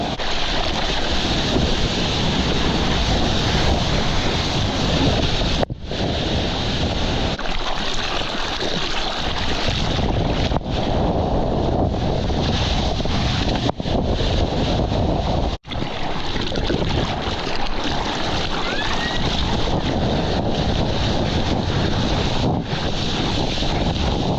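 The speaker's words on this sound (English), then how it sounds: "Can't really do much on these waves at the moment." Strong wind roars over the microphone while waves wash around a Little Raven sea kayak on open water, a loud, constant broadband rush with brief gusting dips.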